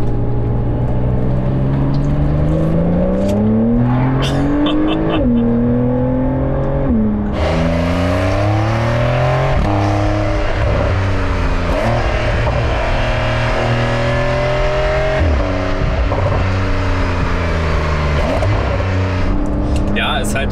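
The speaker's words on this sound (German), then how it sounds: "Sportmodus macht die Abgasanlage auf" Porsche 911 (992) Carrera S with its exhaust valves opened in sport mode, the engine droning loud and close throughout as revs climb and fall in long sweeps, with a person talking over it.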